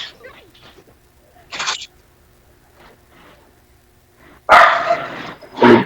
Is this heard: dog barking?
yes